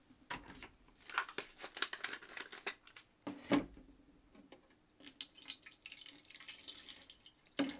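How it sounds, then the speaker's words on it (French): Descaling solution poured into the water tank of a DeLonghi Magnifica S coffee machine, with intermittent splashing, dripping and plastic crinkling in short bursts, fairly faint and close. "On va mettre la solution détartrante jusqu'au niveau A."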